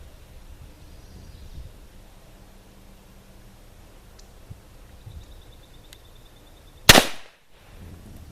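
A single loud gunshot from a .45 Colt Ruger Vaquero single-action revolver cracks out sharply at target practice, followed by a brief decaying echo against quiet outdoor background.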